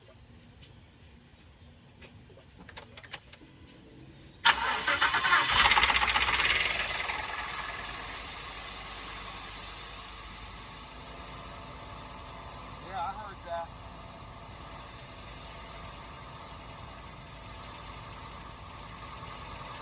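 A large 5.0 car engine idles with a rough, uneven, diesel-like misfire, rising sharply as the engine is revved, while a person talks over it.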